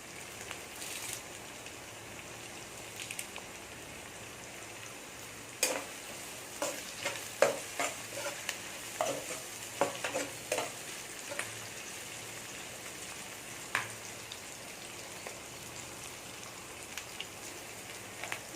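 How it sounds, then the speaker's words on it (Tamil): Onions, green chillies and curry leaves sautéing in a pan for a chilli fish masala, with a soft, steady sizzle and scattered stirring clicks and scrapes that grow busier midway, quiet and alone. "வெங்காயம் பச்சை மிளகாலாம் நல்லா வதங்கிருச்சு."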